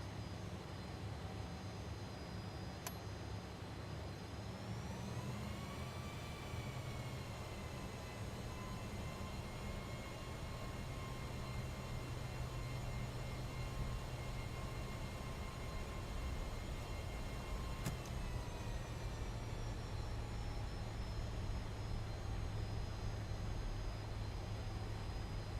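A Fokker F28 jet in Microsoft Flight Simulator taxiing at Paris Charles de Gaulle, steady engine whine and hum with tones shifting in pitch as thrust changes, constant and alone.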